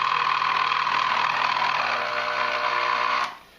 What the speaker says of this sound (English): So it's a very simplistic AC motor with a switch on it.